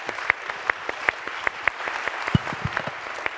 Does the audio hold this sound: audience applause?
yes